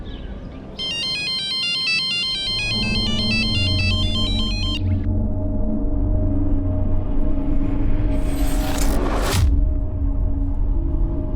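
A bright electronic ringtone plays a repeating melody for several seconds over a low rumbling background, then stops.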